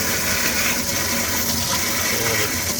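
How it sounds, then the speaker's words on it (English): A cold water tap turned on to full flow gushes in a steady, loud, unbroken rush with no voices over it. "Now we turn the cold water all the way on"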